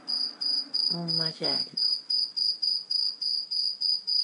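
A cricket chirps in a steady repeating pulse of shrill trills, continuing close and clear while a person briefly speaks over it.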